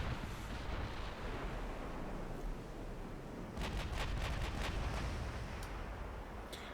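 Naval guns firing shells in a Byzantine Empire naval campaign video game: a dense, steady rumble of distant artillery with a cluster of sharper cracking reports near the middle, continuous and moderately loud.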